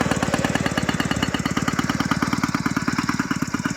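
A 49cc mini chopper engine idles close by, a loud, fast, even putter pulsing steadily and alone.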